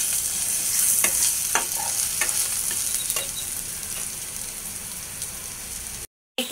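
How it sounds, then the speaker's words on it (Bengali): Black peppercorns fry in a pan with a close, continuous sizzle broken by scattered sharp pops and crackles. It cuts out briefly near the end, and no one speaks. "এই তো 10-15টা আমি গোলমরিচ দিয়ে দিলাম। এগুলোকে একটু ভাজবো।"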